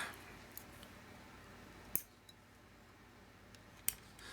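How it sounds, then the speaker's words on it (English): Wire cutters snip the wires of a Walthers Trainline FA-1 model locomotive at its circuit board, two sharp, close clicks about two seconds apart in a quiet room. "something to cut these wires with, so I'm just going to cut them off right at the board"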